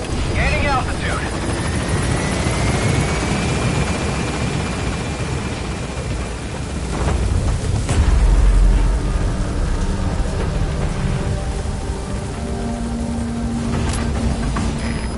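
The Pequod helicopter from a video game climbs after lifting off a landing zone, its rotor thumping in a loud, continuous drone with a swelling rumble midway, while a voice speaks over it.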